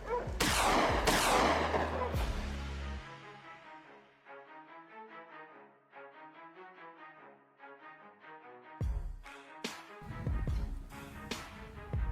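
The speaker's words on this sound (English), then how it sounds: "Still in position, I targeted the fleeing pack and kept firing, taking down more." Gunshots ring out while hunting invasive wild boars ravaging farm crops: a few loud sharp cracks at the start and again near the end, with quieter layered sound between them and no talking.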